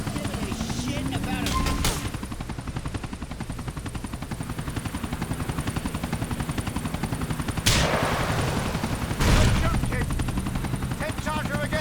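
A helicopter in the video game Grand Theft Auto IV: a steady, loud rotor drone throughout, broken by bursts of gunfire and sharp impacts, with voices mixed in.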